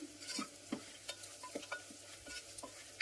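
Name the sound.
stirring frying onions with spices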